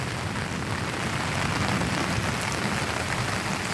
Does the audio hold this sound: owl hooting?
no